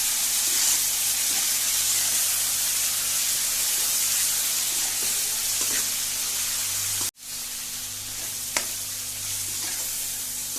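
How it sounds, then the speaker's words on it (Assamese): Ginger, garlic and chili paste fries in oil over medium flame, giving a steady bright sizzle with occasional stirring scrapes and a brief cut partway through. "আদা নহৰু আৰু জলকীয়াৰ পেষ্টখিনি দি দিম। ভালদৰে ভাজি ল'ম।"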